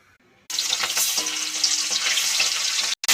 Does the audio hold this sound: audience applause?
no